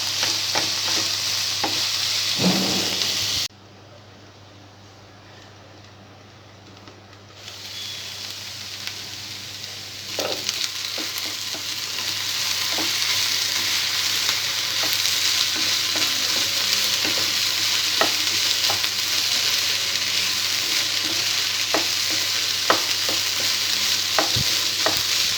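Tindora pieces stir-fried with onion in a pan on medium flame, a steady close sizzle with occasional scraping stirs; a brief quiet dip early on, then the frying hiss resumes and holds evenly.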